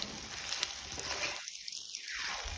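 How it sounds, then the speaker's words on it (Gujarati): Vegetable muthiya frying in oil on a medium flame, a steady soft sizzle throughout with a faint stirring tick, alone and fairly quiet. "એકદમ ધીમા હાથે આપણે એને ફેરવવાના છે અને તેલમાં સરસ ક્રિસ્પી થઈ જાય ત્યાં સુધી આપણે એને શેકી લઈશું"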